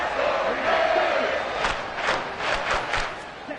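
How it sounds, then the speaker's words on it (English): Loud football stadium crowd roaring and cheering at an Oilers at Dolphins game, a sustained dense wall of voices with rising shouts throughout. "This crowd turning up the decibel level."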